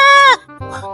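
A goat gives one loud, close, quavering bleat, followed by a shorter, lower second call.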